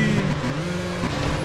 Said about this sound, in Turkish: Bu arabanın sesi mükemmel de araba durmuyor.